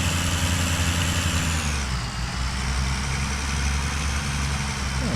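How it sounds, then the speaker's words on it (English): A tractor engine idles in a farming video game, a steady, loud diesel rumble with a constant low drone and a slight shift in pitch partway through. "Well, guys, I'm willing to give this tractor a try."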